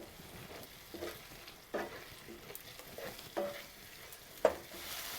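Potato curry with yogurt being stirred and sautéed in a pan, giving a low steady sizzle broken by a few sharp scraping strokes of the spoon, close up with no talking.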